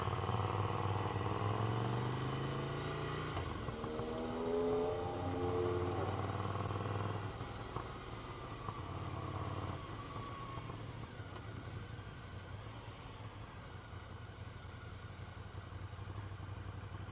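A Ducati Scrambler motorcycle with aftermarket exhaust pipes runs steadily, revving up early and then settling into a low, even engine drone under wind and road noise, with no one talking.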